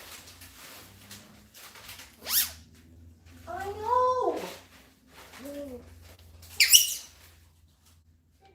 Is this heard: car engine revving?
no